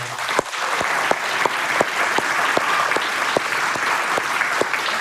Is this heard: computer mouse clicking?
no